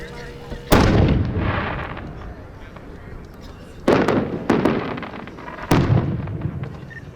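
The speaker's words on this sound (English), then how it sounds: "the next one is a 10-inch cage pattern of blue, red, yellow inserts with reports" A 10-inch cage pattern firework shell with blue, red and yellow inserts bursts at a winter display, a loud boom followed by three sharp report bangs spaced across the seconds, each trailing into crackling rumble.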